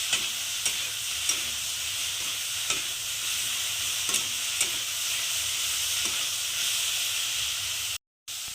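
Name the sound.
stirring pepper and oregano into pizza paratha filling in pan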